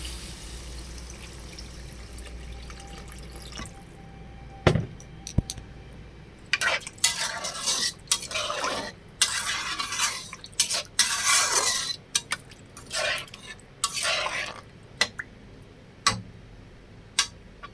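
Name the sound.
water added to fried potatoes and fish in pan, stirred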